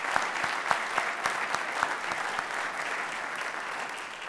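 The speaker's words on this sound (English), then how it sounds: "So let's give them a round of applause." Audience applause at a senior class evening event, a burst of steady clapping from a moderate crowd that holds for a few seconds and then gently tapers.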